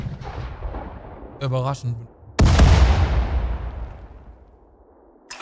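Heavy artillery fire in the Sudden Strike 4 World War II desert battle at El Alamein: a sharp, loud boom that rolls off into a long fading rumble, preceded by short bursts and a brief voice.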